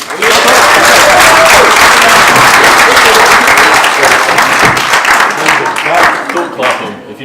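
Wedding guests break into loud, sustained applause with scattered claps, filling the room steadily before tapering off near the end.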